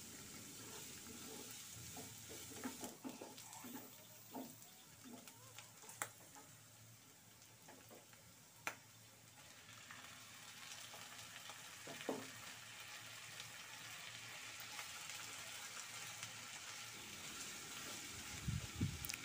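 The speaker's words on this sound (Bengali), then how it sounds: "এবার নেড়ে চেড়ে হালকা করে ভেজে" Onion, garlic and slit green chilies fry in a pan with a soft continuous sizzle, broken by scattered spoon scrapes and taps as they are stirred, fairly quiet overall.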